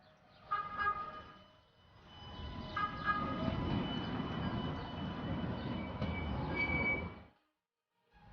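An Istanbul tram rolls past on a city street, a rumbling wheel-and-rail roar with a faint squeal that swells for several seconds and then cuts off, with road traffic around it.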